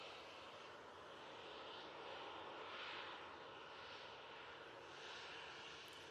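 Aer Lingus ATR turboprop airliner at Manchester Airport, a continuous engine drone and propeller hum held at an even, moderate level with a slight swell in the middle, no voices.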